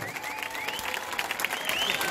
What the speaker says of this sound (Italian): Tra i vostri applausi, 3, 2, 1, Federico Salvatore!